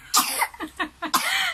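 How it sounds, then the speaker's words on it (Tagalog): A person gives a short burst of several close, sharp coughs in quick succession, then a final longer, rougher cough. "Eh, ba't ubo ka?"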